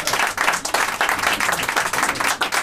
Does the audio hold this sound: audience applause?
yes